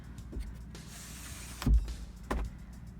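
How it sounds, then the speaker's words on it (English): A quiet electric motor whirs as the sunroof of a VW Golf 3 wagon slides open, punctuated by a couple of soft thumps and clicks. "Well, it actually has electric sunroof, as you can see."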